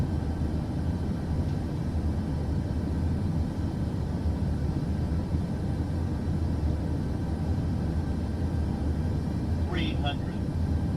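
Steady cabin-level engine drone of a 737 airliner on an ILS approach in Microsoft Flight Simulator 2024, continuous and even throughout, with a brief chirping tone near the end.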